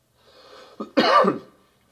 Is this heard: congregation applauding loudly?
no